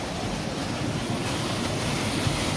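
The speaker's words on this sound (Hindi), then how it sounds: "बहता हुआ पानी, साफ स्वच्छ शुद्ध पानी आपको दिख रहा होगा" A clear mountain stream at a sacred pilgrimage site rushes steadily outdoors, a dense continuous wash of flowing water with some wind, fairly loud and unbroken, with no voices.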